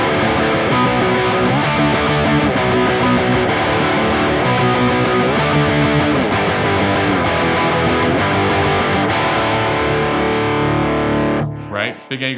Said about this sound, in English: And then kick on your distortion